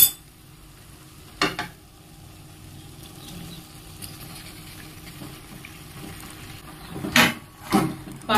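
Pasta gets stirred into a tomato masala in a pan, with low sizzling under a few distinct scraping strokes, one early and a cluster near the end.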